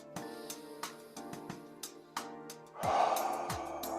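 Slow, deep breathing in and out during a guided breathing session, soft airy breaths with small clicks, growing into a fuller, louder exhale toward the end, with no talking.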